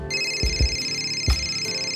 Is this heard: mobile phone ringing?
yes